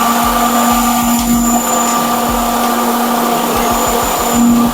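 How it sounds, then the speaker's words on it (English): Stage cold spark machines firing produce a loud, steady mechanical whir with a sustained hum, close and continuous for the whole stretch. "increase 2 machine until all the machine do function"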